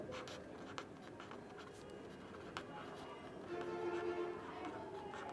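Chalk or marker scratches on a board during a finance lesson, soft intermittent strokes and taps heard faintly under a quiet room.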